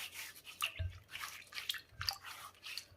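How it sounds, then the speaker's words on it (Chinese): Cucumbers being washed by hand in a bowl of water with flour, soft intermittent splashing, rubbing and dripping sounds, close and fairly quiet. "接着我们下手把黄瓜给它洗一下"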